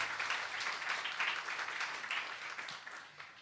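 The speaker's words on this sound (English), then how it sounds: "Please give a big round of applause to thank them and yourselves for the time and effort this early" An audience gives a round of applause at an early Saturday morning youth public speaking contest: even, rolling clapping from a hall full of people that slowly fades.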